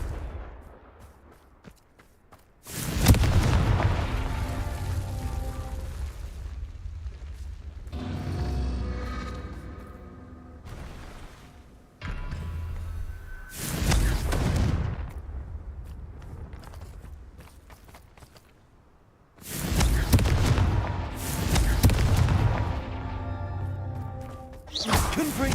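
Confringo blasting spell explosions in the video game Hogwarts Legacy, several loud booming blasts with long decaying tails, separated by quieter stretches of footsteps and ambient game sound.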